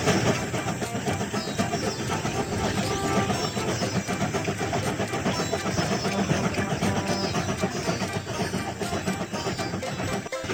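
Engine of a toy train in a kids' train game starting up and running, a steady mechanical hum with rattling texture holding at an even level throughout, with no talk.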